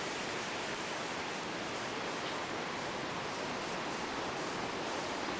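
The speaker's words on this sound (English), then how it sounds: "And they're throwing lots of water into the river." Floodwater from the wide-open gates of a dam on the Thornapple River pours into the river, a loud, steady, unbroken roar of rushing water that fills the whole stretch with no talk.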